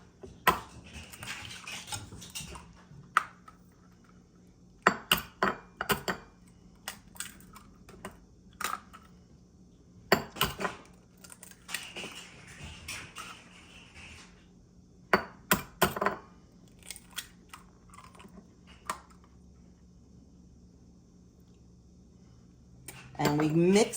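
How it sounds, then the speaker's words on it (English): Ricotta cheese, sugar, vanilla and eggs are stirred by hand in a bowl, giving intermittent bursts of clinking, scraping utensil strokes separated by quiet pauses. "And we mix this all up very well."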